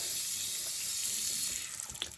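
Water runs steadily from a tap while shaving lather is being thinned for a straight razor shave, a continuous close hiss with no talking.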